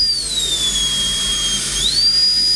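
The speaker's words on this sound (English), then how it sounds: "he's engraving the coral, and he's creating a little rose using this kind of specific drill." A high-pitched small rotary engraving drill whines steadily as it carves coral, its pitch dipping slightly then rising again, over a low background hum.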